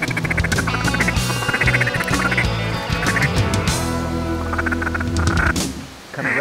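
A dense chorus of pintail ducks quacking continuously during a waterfowl hunt, loud and close, with many overlapping calls forming a busy, unbroken din.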